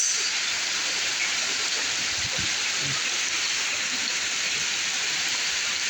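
Heavy rain pours in a steady, dense roar during a flood, loud and unbroken throughout, with no voices over it.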